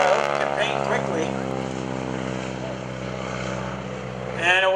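Stearman biplane passing low during a photo pass at the 2013 Greenwood Lake airshow, its steady droning radial engine and propeller loud throughout and swelling again at the end, with a voice talking over it.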